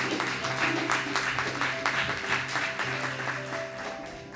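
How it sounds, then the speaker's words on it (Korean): A crowd applauding steadily, a dense wash of many hands clapping at once, fairly loud and sustained throughout. "같이 박수 한번 쳐주시면 감사하겠습니다"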